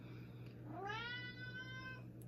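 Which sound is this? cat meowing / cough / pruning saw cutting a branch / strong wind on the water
cat meowing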